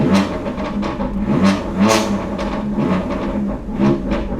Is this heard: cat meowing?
no